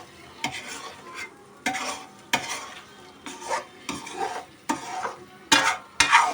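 Egg bhurji gravy sizzles in a pan while a spoon stirs it in repeated scraping strokes. Eight or nine short, rhythmic scrapes rise over a soft, continuous frying hiss, heard close up.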